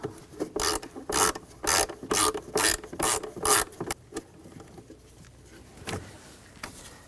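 A T20 socket ratchet on a 2013-2019 Ford Escape clicks through about eight quick rasping bursts while backing out a screw, then slows to a few faint scattered clicks and handling noises, close up.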